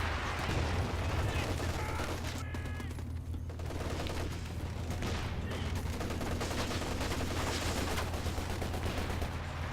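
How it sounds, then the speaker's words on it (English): Machine gun fire in the World War II strategy game Company of Heroes 2, dense continuous battle noise with rattling gunfire under a steady low engine drone and faint talk. "Axis do have a few machine guns kicking around."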